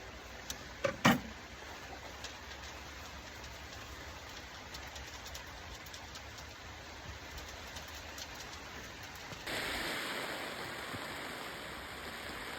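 Steady rain falls on a farm, a soft, continuous hiss with a couple of brief knocks near the start, and it turns louder and brighter toward the end.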